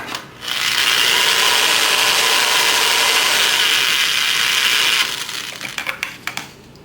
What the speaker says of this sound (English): I'm just going to mark it together with a drill like this.